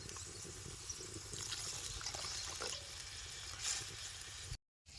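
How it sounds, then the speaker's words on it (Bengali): Water pours into a simmering curry of large river fish, cooked village-style outdoors beside a river, a faint steady trickling splash lasting a few seconds before cutting off abruptly. "আমি আরেকটু জল দেবো যেহেতু আমার মাছগুলো বড় বড়"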